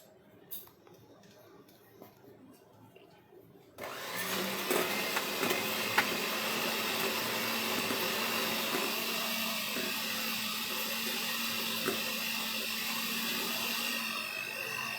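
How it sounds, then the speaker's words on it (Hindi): An electric blender beats hard chilled butter in a home kitchen, starting abruptly after a few quiet seconds and then running as a loud, steady whirring drone to the end. "अब हम इलेक्ट्रिक ब्लेंडर की मदद से इसे अच्छे से फेंट लेंगे।"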